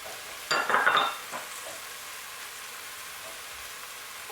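Garlic and ginger sizzle in a hot pan for a short burst near the start, with a stir or utensil scrape, then fade to a quiet low hiss.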